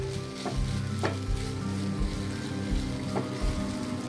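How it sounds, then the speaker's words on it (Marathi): Dates and coconut sauté in ghee in a pan, giving a steady close sizzle with repeated scraping strokes of a spoon stirring through them, a few sharper clacks against the pan standing out. "म्हणून मी पहिल्यांदा तुपात जरा परतून घेते आहे"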